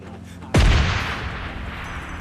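A single loud RPG blast from the mobile battle royale game PUBG Lite hits hard and then rumbles away over a couple of seconds, with steady game background noise underneath.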